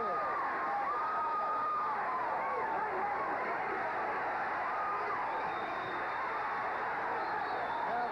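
Boxing crowd at the Michael Spinks vs David Sears fight, a broad roar of cheering and murmuring filling the arena while a commentator speaks over it.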